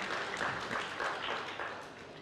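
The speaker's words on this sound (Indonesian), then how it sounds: "Berikan tepuk tangan yang meriah buat Tuhan." Church congregation applauding during a sermon, a steady, dense wash of clapping from many hands that fills the space evenly at moderate, slightly distant level.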